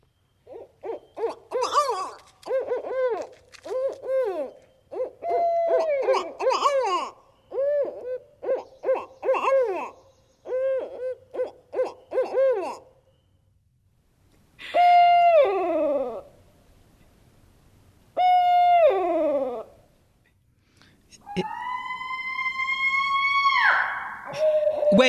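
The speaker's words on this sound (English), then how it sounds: "growling and howling and squalling and snarling all sort of in the barred owl call" A barred owl calls in a long series of rhythmic hooting phrases, then gives several separate loud, squalling caterwauls with pauses of silence between them.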